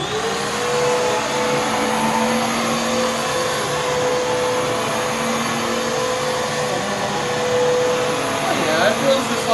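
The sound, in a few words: vacuum cleaner running during a suction test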